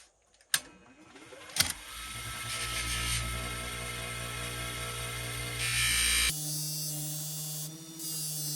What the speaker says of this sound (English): now we start the polishing